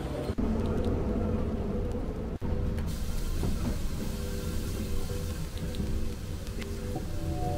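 Steady low rumble inside a moving train at Disneyland Paris, with rattling and a couple of sharp clunks, continuous and close.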